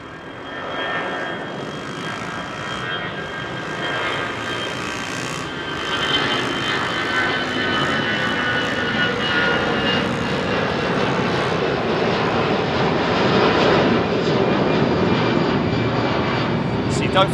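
Airliner departing Heathrow runway 27R, a loud sustained jet engine roar that swells partway through and holds steady as the aircraft climbs out.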